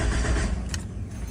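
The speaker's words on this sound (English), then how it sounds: "we're gonna hold the ignition and we're gonna start the car and you're gonna see" Chrysler PT Cruiser with a faulty ignition switch cranking and catching as the key is turned, a low rumbling engine that stays fairly steady, with a brief higher click partway through.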